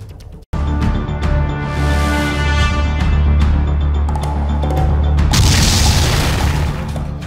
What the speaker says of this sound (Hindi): उसी कीव शहर में रूस ने मिसाइलें दागकर दहशत फैला दी है